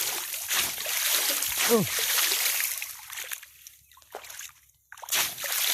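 Water splashed about during a natural outdoor swim, with broadband sloshing and splattering bursts under excited voices talking and shouting nearby.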